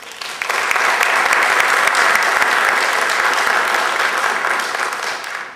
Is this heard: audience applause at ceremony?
yes